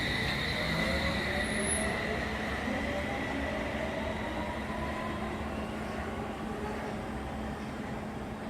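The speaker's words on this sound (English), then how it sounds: "Here's our eastbound train now arriving" A London Underground S-Stock train pulls into Putney Bridge station eastbound, a steady low rumble of wheels on rails with sustained hum and faint high whine throughout, close and continuous.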